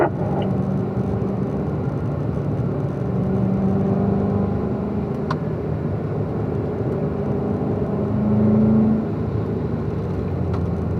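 Steady engine drone of a car driving on a track, the throttle eased back before a left turn, holding a continuous rumble with a brief swell near the end.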